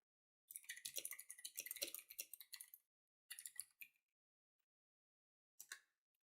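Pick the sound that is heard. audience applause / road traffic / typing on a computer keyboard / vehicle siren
typing on a computer keyboard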